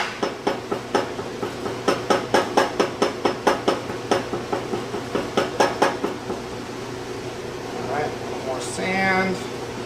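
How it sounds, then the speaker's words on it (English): Steady metal-on-sand hammer taps packing casting sand into a metal casting flask, around twenty evenly spaced strikes at close range over a constant hum, then a brief pause and a short rising whine at the end. "Get out the hammer, which once again is not a special hammer."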